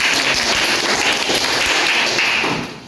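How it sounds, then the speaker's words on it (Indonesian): Children clapping together in a classroom, a dense steady burst of applause lasting a few seconds before fading at the end. "Give applause."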